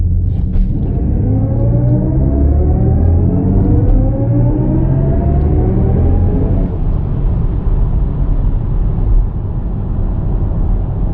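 A 2025 BMW i5 eDrive40 electric car launching hard under launch control, with a steady loud rumble and rising electric motor whine that climbs in pitch for several seconds before levelling off.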